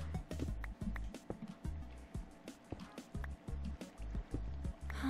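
Flowing water in Minecraft during an ultra hardcore survival match, a steady trickling and lapping wash with repeated soft sloshing pulses, moderately close, with no talk over it.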